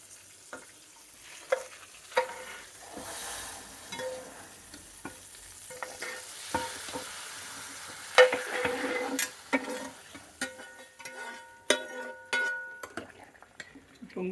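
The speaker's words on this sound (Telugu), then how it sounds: "అదే సేమియాలు, జీడిపప్పు, ద్రాక్ష అంతా వేయించుకొని ఇప్పుడు వేసుకోవాలండి." Fried vermicelli, cashews and raisins being stirred into a pot of boiling milk for a sweet, with scattered scraping and clinking spoon-on-pot stirring sounds and a soft bubbling hiss, close and fairly quiet, no talk.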